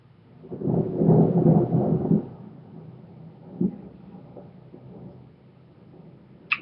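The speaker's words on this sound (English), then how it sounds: "Here comes the thunder." Thunder rolls through a rainstorm in a low, loud rumble lasting about two seconds, followed by a fainter distant boom and a quieter stretch of storm ambience.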